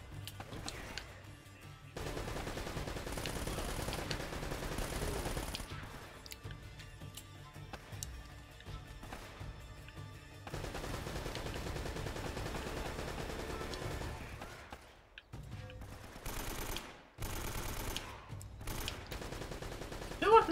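Enemy gunfire in Uncharted: Drake's Fortune, rapid automatic bursts chattering at a high rate under steady game ambience, broken by short gaps and fainter shots.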